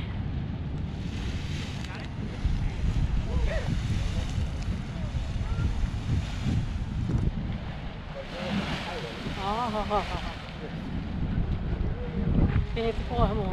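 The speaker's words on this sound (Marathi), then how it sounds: "ग्रोटो थोडं थोडं इरप्ट होतंय." Grotto Geyser erupting in small, steady spurts: a continuous broadband rush of water and steam mixed with wind buffeting the microphone, with people talking over it throughout.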